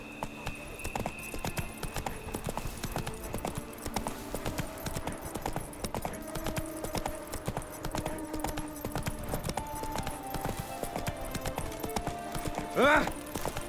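Roach the horse's hooves clip-clop in an even walking rhythm in The Witcher 3, with a brief voice heard near the end.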